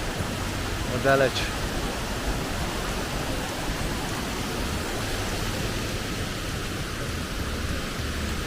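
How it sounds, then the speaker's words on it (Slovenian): The upper Martuljek waterfall roars as a steady broadband rush throughout, with a brief voice speaking over it near the start. "Evo ga, zgornji Martuljški slap."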